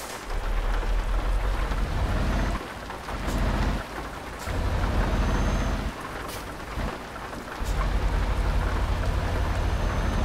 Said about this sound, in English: All the rain has moved in.